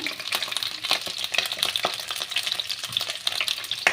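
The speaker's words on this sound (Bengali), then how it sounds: "ফুলকপিগুলোকে ছেড়ে দিলাম, গ্যাসের ফ্লেমটা একটু হাইতে দিলাম" Cauliflower florets frying in a pan over a high gas flame, a steady bright sizzle and crackle with scattered spits and pops, close and continuous with no talking.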